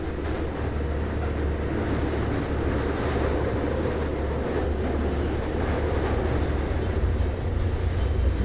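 A moving train in the video game Fallout London rumbles steadily, a dense low roar with a continuous hiss on top, unbroken and close throughout.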